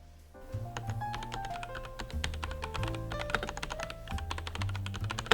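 Rapid, steady typing on a computer keyboard, dense clustered key clicks running continuously at close range with no talking over them.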